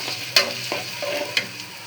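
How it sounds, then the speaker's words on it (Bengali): Onions hit hot oil and fry with a bright, steady sizzle, while a utensil scrapes and stirs in a few quick strokes close by. No one speaks. "তেল দিয়ে তেলের উপরে পেঁয়াজ দিয়ে দিলাম"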